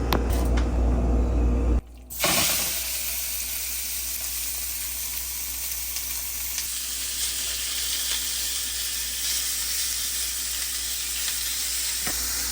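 Lightly seasoned fish fillet sears in sesame oil on a hot skillet, with a loud, constant close-up sizzle and hiss after a brief quiet moment near the start.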